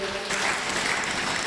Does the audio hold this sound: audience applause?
yes